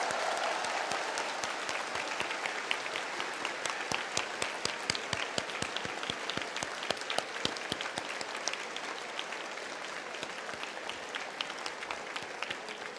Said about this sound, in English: Let us give a warm round of applause to our new lawyers.